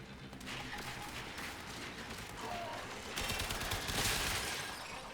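Muffled, continuous Warframe gunfire crackles in the background, thickening into heavier volleys toward the end, with faint speech mixed in.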